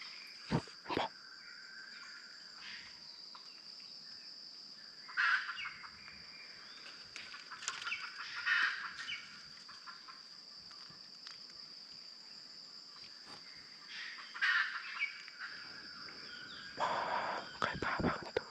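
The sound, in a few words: wild junglefowl calling as they wake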